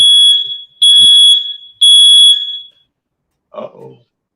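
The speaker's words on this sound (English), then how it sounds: "It's a fire alarm." A fire alarm sounds in three loud, piercing electronic beeps, each lasting about half a second to a second, followed by a short burst of a voice reacting.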